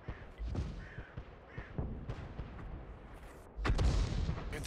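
Birch Gun self-propelled artillery firing in World of Tanks on a winter map, with several dull thumping shots scattered across the stretch and a louder, fuller blast near the end over a rumbling game background.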